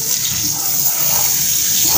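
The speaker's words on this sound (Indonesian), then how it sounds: "maka kita lakukan penyiraman kembali dengan selang dan sebagainya" A hose sprays a steady, loud, continuous rush of water over a flowering honey guava tree during daily watering, with no voices over it.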